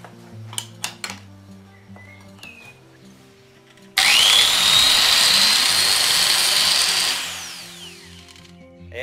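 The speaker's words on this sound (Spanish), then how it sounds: "Como esta arranca sin revolucionarse tanto y frena más rápido." A small 115 mm angle grinder switches on abruptly, quickly winds up to a loud steady high-pitched whine, then is cut off and spins down with a falling tone. Quieter background sounds play before it starts.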